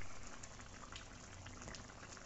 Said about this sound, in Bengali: এবার এটাকে আবার মিনিট 5-7 ফুটতে দিতে হবে।